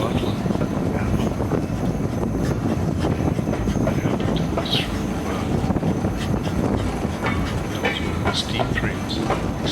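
A train rumbles steadily along the rails with continuous clatter and wind noise, loud and close throughout.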